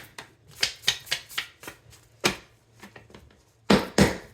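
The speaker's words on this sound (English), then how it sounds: "Last shuffle." Playing cards riffled and shuffled for a love tarot reading, a string of crisp papery bursts in an uneven rhythm with brief pauses, ending in two louder close shuffles.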